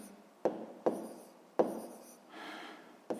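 Pen strokes scratch across paper as math fractions are written by hand, a few distinct scribbled bursts separated by short pauses, close and clear with no talking.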